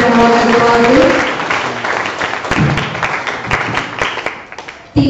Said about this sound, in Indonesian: Beri tepuk tangan untuk pasangan calon nomor 2 dan nomor 2